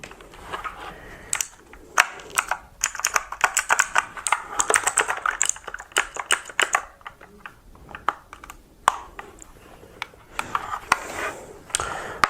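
Rapid key presses on a new computer keyboard, a close, dry clatter of bursts and short pauses, with no talking.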